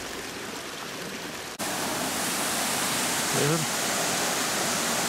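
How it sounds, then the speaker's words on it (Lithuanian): A waterfall at the Longsheng rice terraces gives a loud, steady rush of water throughout. A voice cuts in briefly partway through. "Toks krioklys kriokliuoja."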